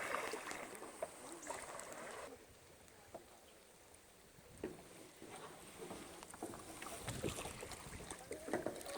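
Canoe paddles dip and splash softly in the calm water of the Perdido River, with light knocks against the boats and a faint breeze in the open air around them.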